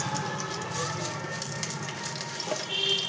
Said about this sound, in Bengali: দুটো শুকনো লঙ্কা, একটু রসুন ফোড়ন দিলাম